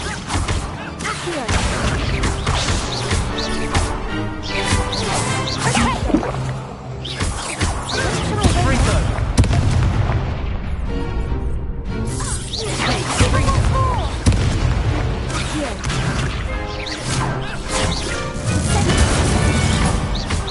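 Descendo spell impacts in Hogwarts Legacy, with loud crashing, thudding and whooshing effects that come one after another through a dense, busy combat mix.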